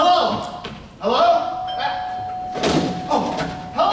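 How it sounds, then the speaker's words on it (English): A doorbell chimes indoors, its tones ringing out repeatedly between thuds and voices talking over it in a dated film scene. "That's the doorbell, dear, not the telephone."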